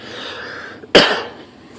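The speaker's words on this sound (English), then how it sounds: "I had a little cough, guys." A single sharp cough from a person close by at a hobby workbench, where a model airplane's nose gear is being repaired, bursts out abruptly after a quiet stretch and fades within half a second.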